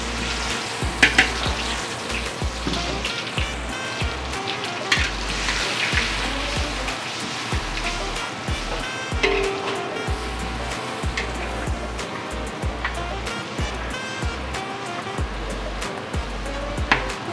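Garlic sizzles in hot oil in a pan, a steady crackling fry with small popping bursts throughout, loud and close, with no voices.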